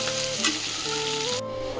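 Vegetables frying in a pan for chowmein give a loud, steady close-up sizzle that holds for the whole stretch, with faint tonal hum running underneath and no talking.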